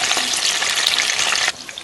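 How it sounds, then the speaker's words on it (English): Okra frying in hot oil for a Liberian okra sauce, a loud bright crackling sizzle that holds steady and then drops to a softer hiss near the end, close up with no speech. "Fry your okra."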